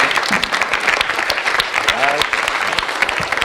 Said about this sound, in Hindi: जोरदार तालियों के बीच दोनों को विदा कीजिए।